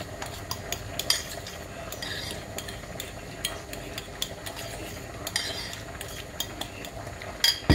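A utensil stirs pasta carbonara with black pepper in a pan, giving a faint background sizzle and repeated light scraping clinks of metal on the pan at an irregular rhythm, ending in a louder clatter, with no voices.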